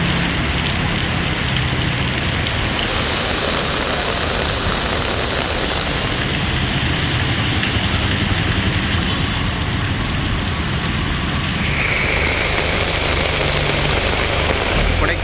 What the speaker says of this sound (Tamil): நீலகிரி மாவட்டத்தில் கூடலூர் மற்றும் பந்தலூர் உள்ளிட்ட இடங்களில் கனமழை வெளுத்து வாங்கியது